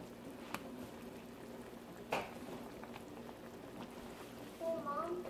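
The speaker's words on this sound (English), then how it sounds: "Boil turkey carcass." A turkey carcass simmers into broth with a faint, steady bubbling patter, broken by a couple of soft clinks and a brief squeak near the end.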